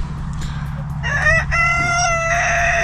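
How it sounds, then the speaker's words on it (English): A rooster crows loudly nearby, a drawn-out call with a few clucks, over a steady low rumble of wind or machinery at a stump-grinding site among rocks. "We got the chickens."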